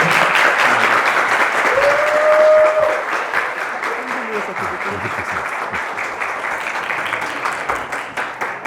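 Sustained audience applause at a church youth winter retreat service, a dense steady clapping that fills the room throughout, with a brief faint voice partway through.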